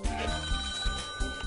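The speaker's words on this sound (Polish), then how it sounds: "Jest telefon, dobry wieczór, witam serdecznie." A telephone rings during a Polish TV word quiz show, a steady electronic ringing tone repeating in short pulses over a busy studio background.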